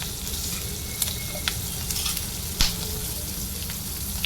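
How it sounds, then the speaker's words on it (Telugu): Green chillies fry in a pan for tomato chutney, a dense, even sizzle close by with a few sharp spatula taps and scrapes punctuating it. "ఇవి కొద్దిసేపు ఫ్రై చేసుకున్నాం అన్నీ మంచిగా ఫ్రై అయిపోయింది పచ్చిమిర్చి కూడా"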